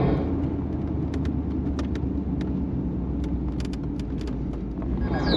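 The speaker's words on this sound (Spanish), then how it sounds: "En este momento sale un vehículo" A vehicle engine driving off, a steady loud low rumble close by with the drone holding throughout, light clicks and ticks scattered over it.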